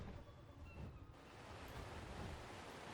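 Steady rushing water from a waterfall pouring through a huge covered cave area with a platform section in ARK Ascended, a continuous broadband wash that holds level throughout.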